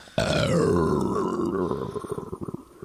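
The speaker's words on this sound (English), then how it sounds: "Go for it, burp." A person lets out a long, loud, drawn-out burp that rumbles for over a second and breaks into choppy, gurgling pulses as it trails off.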